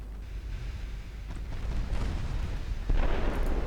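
Torpedoes explode in the naval battle game Ultimate Admiral Dreadnoughts as a few dull, rumbling booms. They are moderately loud, and the last blast swells up near the end.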